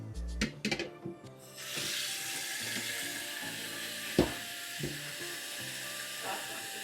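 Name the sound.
adding water to chicken for washing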